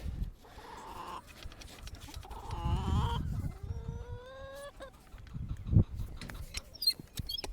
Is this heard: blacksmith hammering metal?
no